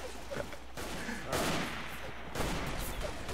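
Bursts of gunfire from the World War I shooter game Verdun come in dense volleys that rise and fall, with a short break between them.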